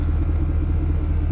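Air suspension raising a Ram 1500 pickup gives a steady, loud low rumble and hum, close and unbroken for the whole short stretch, with no voices.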